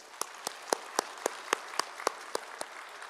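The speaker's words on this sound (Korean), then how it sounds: "그분들을 생각하면서 박수 한번 하십시다." A church congregation claps in unison, about a dozen sharp, evenly spaced claps over a faint crowd murmur.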